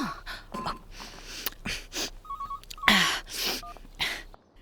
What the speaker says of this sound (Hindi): हाँ कर लो, मैं डायल कर देता हूँ नंबर।